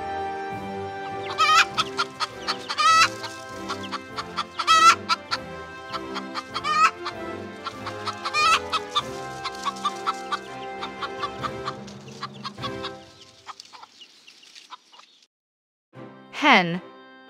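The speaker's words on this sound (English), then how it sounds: "rooster." A rooster on a farm clucks in a steady rhythm of sharp, repeated calls for most of the stretch, then falls quiet before one loud crow rings out near the end, close and clear.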